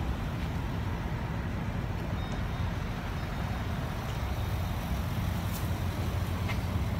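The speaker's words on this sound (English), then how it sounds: "Sorry if the traffic's a little loud." Road traffic passes near a car dealership lot in Downers Grove, Illinois, a dense, continuous roar of engines and tires with occasional faint higher squeaks, steady and moderately loud.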